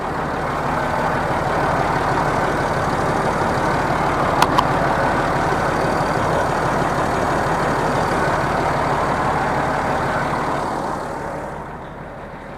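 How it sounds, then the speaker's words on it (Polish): A combine harvester engine runs at a steady idle, a continuous heavy low rumble that holds level for most of the span before easing off near the end. "Przejdę, obejdę, zobaczę jak tam chodzi silnik."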